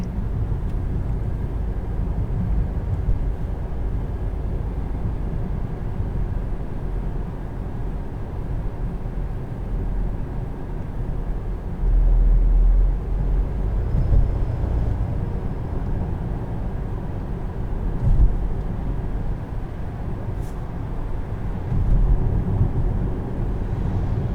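Steady low road and tyre rumble inside a 2019 Volvo S60 T6 R Design AWD cruising over a bumpy road, a muffled continuous cabin hum with occasional heavier thumps from uneven pavement.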